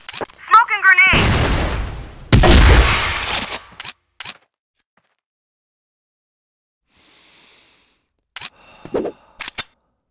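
A smoke grenade in a first-person shooter game bursts with a loud hissing whoosh, followed by a second blast of spray and scattered short game sounds, with a synthetic radio voice calling out over the action.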